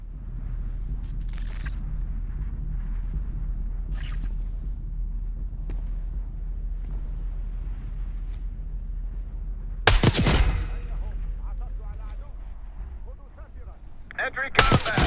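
Mortar fire strikes enemy positions in the video game Call of Duty: Black Ops 6: two heavy, sharp blasts stand out above a constant low battlefield rumble, with some speech mixed in.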